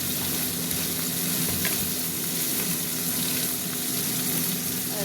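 Ginger-garlic paste with ground chili, coriander, cumin and turmeric frying in a pan, a steady, continuous loud sizzle with faint scraping throughout and no speech.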